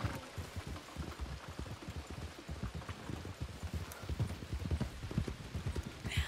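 A horse walks in a steady, close clip-clop with an even rhythm that continues throughout, with faint background noise and no clear speech.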